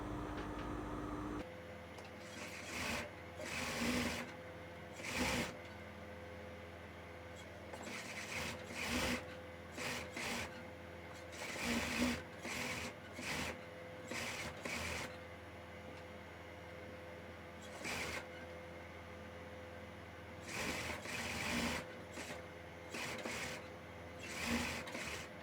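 A sewing machine stitches a blouse lining in short, repeated bursts of rapid whirring, each run stopping and starting again with brief quiet pauses between.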